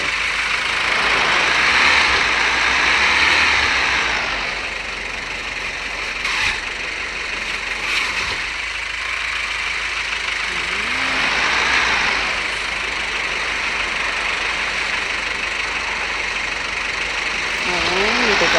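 A car engine idles steadily during a driving test, a continuous low rumble with intermittent voices talking over it.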